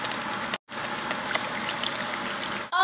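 Water pours steadily from a tap into a pot of homemade chicken soup, a close, even gush with a brief break, no talk.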